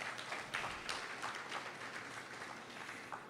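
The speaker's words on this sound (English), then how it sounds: "Please give her another round of applause." Quiet applause at a Caribbean population and development forum closing ceremony for a youth advocate speaker, soft, even clapping from a modest audience heard at a distance.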